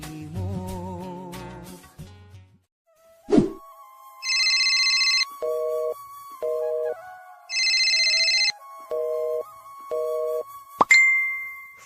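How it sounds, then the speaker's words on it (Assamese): A phone rings with a repeating electronic ringtone, alternating high trilling bursts and lower beeping tones in a steady pattern, clear and close, after a few seconds of music at the start. "ফোনটো ৰিচিভ কৰা বাবু"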